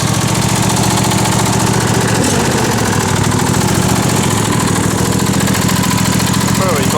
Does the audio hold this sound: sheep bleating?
no